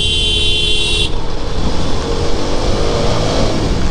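Motorbike overtaking a vehicle on a road near Hariharpara, with a loud, close engine and wind roar and a brief high horn toot at the start.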